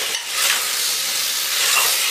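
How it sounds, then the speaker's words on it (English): Roasted cauliflower and potato pieces being stirred into masala in a hot pan for aloo gobi, giving a steady close sizzle with a light scraping stir and no talking. "Now we'll mix everything and we'll reduce the heat to medium-low"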